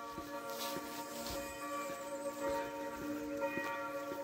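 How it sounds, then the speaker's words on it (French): Church bells of Notre-Dame-des-Neiges ringing in the early morning, heard from some distance: a sequence of faint, evenly spaced tolls over several seconds against quiet outdoor background, with no talk. "vous entendez les cloches"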